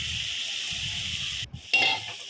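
Papaya fries in a pan with a faint, steady sizzle and hiss, broken by a brief stirring clatter near the end.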